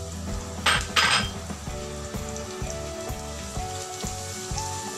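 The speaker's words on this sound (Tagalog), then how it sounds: "Painit na tayo ng oil para sa ating paggigisa. Add na natin yung sibuyas at saka bawang." Chopped onion and garlic sauté together in hot oil in a pan for a Filipino-style stir-fry, giving a steady sizzle with a couple of sharp utensil clinks near the start.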